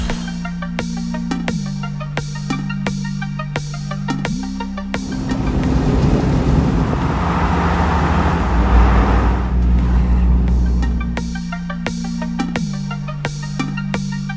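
An Abarth 124 Spider drives along the road on a trip through southern France toward Barcelona, its engine hum steady and near, rising into broader road and wind noise midway before settling back to a droning cruise.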